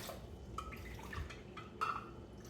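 Water is poured into a pan of tofu and vegetables, a faint, short trickling and dripping splash in a quiet kitchen, with no talking.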